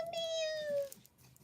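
A cat gives a single drawn-out meow, clear and fairly close, falling slightly in pitch before trailing off into a quiet room.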